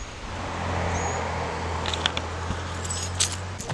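A set of car keys jingles in a few light metallic clinks over a low steady hum, close and fairly quiet, with no talk.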